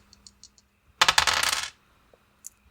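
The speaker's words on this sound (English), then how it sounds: "We're rolling dice." Dice rolled during a tabletop role-playing game session, giving one loud clattering burst of tumbling and bouncing that lasts under a second, framed by faint small clicks before and after.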